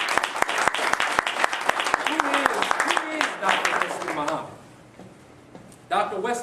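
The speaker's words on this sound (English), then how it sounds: "Give him a well-deserved round of applause." Audience applause for a lecturer at a talk on Islam and Africa, steady dense clapping that fades out after about four seconds, followed by a brief burst of voices at the end.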